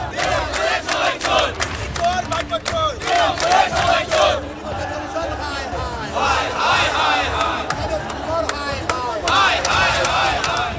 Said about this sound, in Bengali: চলতে থাকে স্লোগান পাল্টা স্লোগান